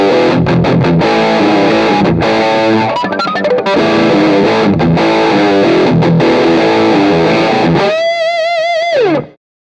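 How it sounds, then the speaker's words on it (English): An electric guitar through an Axe-Fx II plays a dirty, distorted rhythm with a little reverb, loud chopped chords with brief gaps, ending on a sustained bent note that rings out and fades. "Scene 6 gives us either a dirtier rhythm with a little bit of reverb or a lead with less reverb"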